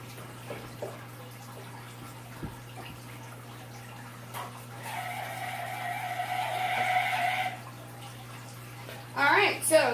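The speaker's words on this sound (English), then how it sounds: "Alright, so the pond pump is going." A pond pump drains aquarium water, giving a low steady hum under a swelling gurgling, rushing water sound that rises midway and then stops, with a few splashy bursts near the end.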